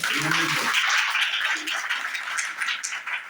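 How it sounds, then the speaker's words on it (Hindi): Audience clapping in a spiritual class gathering, a broad wash of hands that follows a brief voice at the start and then fades unevenly toward the end. "ताली बजाओ।"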